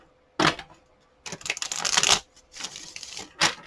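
A deck of tarot cards is shuffled at close range in short bursts of quick riffling and flicking, separated by brief pauses, with no talking over it.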